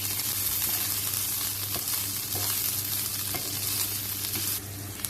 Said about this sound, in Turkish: Tereyağı ile birlikte pirincimizi kavuruyoruz.